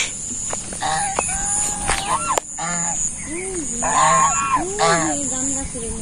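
Domestic geese outside a village house give loud, nasal honks in an irregular series at close range, with other fowl calling in the background.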